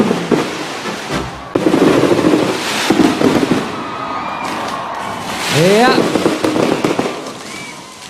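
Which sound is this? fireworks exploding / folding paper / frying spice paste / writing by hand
fireworks exploding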